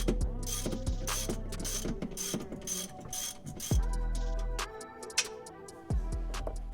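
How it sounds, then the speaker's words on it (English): A large ratchet loosens a 17 mm nut during a differential bushing install on a Subaru STI, sharp rapid clicking in repeated bursts up close, with metallic clanks between strokes. "that large ratchet definitely helps"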